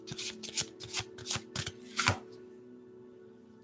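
Tarot cards riffled and shuffled in several quick bursts of crisp papery rustling, close and fairly loud, then a quiet pause to the end; no talking.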